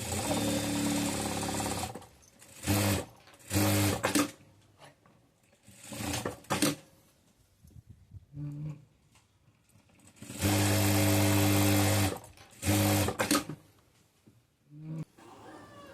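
Sewing machine stitching the side seams of a blouse in several separate bursts of varying length, with quieter handling of fabric between runs and no talk heard.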